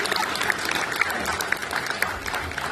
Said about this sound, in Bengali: করতালি দিয়ে এই মুহূর্তটিকে বন্দী করার জন্য অনুরোধ করছি।